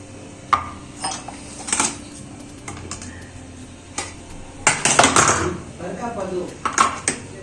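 Jowar idli plates being lifted out of a steamer, with sharp metallic clinks and clatters of stacked plates knocking together, close and intermittent, over someone talking.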